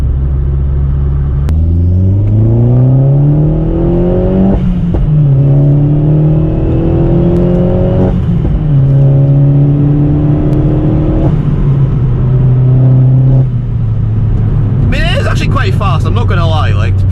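Opel Corsa OPC/VXR engine pulling hard through the gears, a loud droning note that rises with each run then drops at the shifts, turbo whir over a cabin rumble, ending with a brief hiss.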